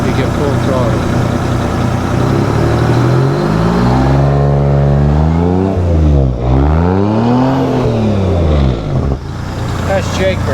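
A diesel truck engine at a mountain diesel event revs hard to full throttle, its pitch sweeping up and down in long rising and falling arcs, loud and close, with a continuous roar throughout.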